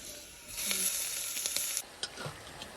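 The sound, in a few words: meat added to fry with garlic and onion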